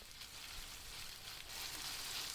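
Potatoes fry with a broken dried chili in hot mustard oil, giving a steady close sizzle and crackle with no voices.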